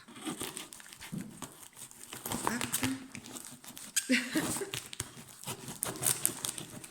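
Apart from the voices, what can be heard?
tearing open a taped cardboard box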